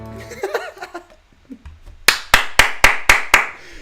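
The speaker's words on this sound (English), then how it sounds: "Sorry for clapping, man." Someone claps hands sharply six times in a quick, even rhythm close to the mic, after a brief stretch of voice and low murmuring.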